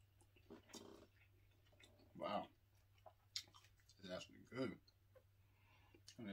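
Someone chews Panda Express honey walnut shrimp close to the microphone, with soft, intermittent bursts of mouth sounds and chewing between quiet stretches and occasional speech.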